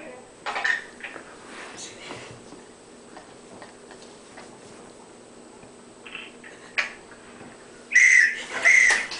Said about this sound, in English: I was wondering if you'd blow the whistle for me.